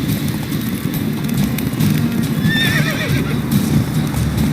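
Horse neighing and whinnying in The Witcher 3 game, with clip-clop of hooves over a steady low ambient rumble; the whinny rises clearly midway, no talking.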